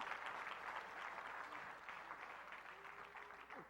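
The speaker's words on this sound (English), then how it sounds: "That's a good place to clap." A seminar crowd breaks into applause during a leadership talk, a steady wash of clapping hands heard faintly and at a distance, holding evenly throughout.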